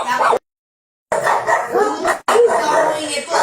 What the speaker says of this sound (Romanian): El e câinele meu de companie, Dan.